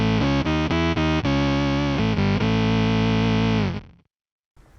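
A guitar synth pedal produces a thick, distorted synth tone with one voice shifted up an octave, a few quick re-struck notes and then a long sustained note that cuts off abruptly into silence before a new attack starts.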